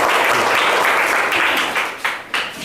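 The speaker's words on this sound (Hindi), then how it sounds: "एक जोरदार ताली होना चाहिए" A short burst of loud, dense applause from a class of children during a maths quiz, steady at first and then tapering with a few scattered claps near the end.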